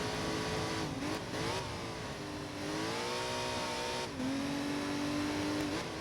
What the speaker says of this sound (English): the tires screaming on the asphalt